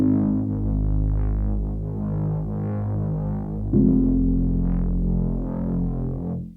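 Moog-style synth bass remade from a track, a deep sustained bass line with gliding, pulsing upper tones and a shift in pitch partway through, loud and close with no voices.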